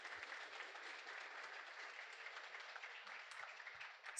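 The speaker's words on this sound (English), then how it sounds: "Let's give them another round of applause for a wonderful presentation." Audience applause after a lecture at Illinois Tech, a soft, distant wash of many hands clapping steadily, thin and quiet, ending abruptly.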